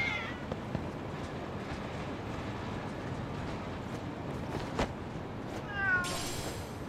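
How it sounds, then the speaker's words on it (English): Cats meow in the Lost Judgment video game, a few short cries over a steady background hum, with one louder, higher call near the end. "Hey, little cats."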